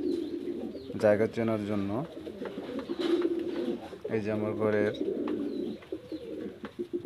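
Pigeons coo in a home loft where a keeper tends his birds, repeated throaty calls in two bursts standing out over steady background with someone talking throughout.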